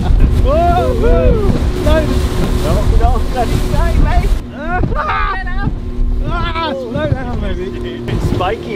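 Small speedboat pounding across choppy sea around a headland, engine drone steady with wind buffeting the microphone; excited voices talk and shout over it throughout.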